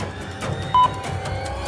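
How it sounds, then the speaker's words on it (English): A buzzer sounds on a live TV election results broadcast for the Assam election, two short electronic beeps over a busy studio background. "The buzzer has gone."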